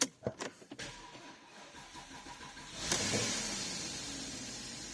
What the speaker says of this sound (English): I already primed the fuel, so it should start up straight away.